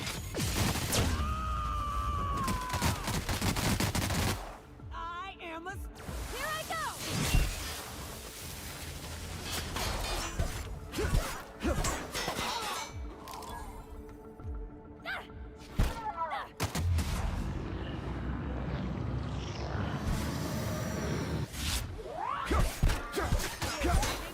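Gunfire in the sci-fi shooter The Outer Worlds, with repeated cracking shots, crashes and thuds in chaotic bursts over half a minute, mixed with shouting voices and quieter stretches in between.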